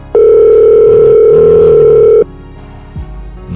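A telephone dial tone sounds loud and steady for about two seconds, then cuts off abruptly, followed by faint line noise and a brief low click.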